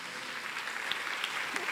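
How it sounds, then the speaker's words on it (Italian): Audience applause at an award moment during an international violin competition ceremony, a soft, distant continuous patter of many hands, faint and steady. "un applauso per il dottor Conca."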